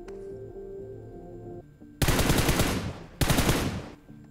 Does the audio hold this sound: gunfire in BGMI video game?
yes